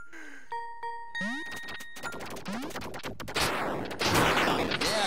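Gunshots crack in Duck Game, a chaotic 2 vs. 2 match, with sharp repeated bursts mixed with chiming game jingles and bleeps, growing denser and louder toward the end.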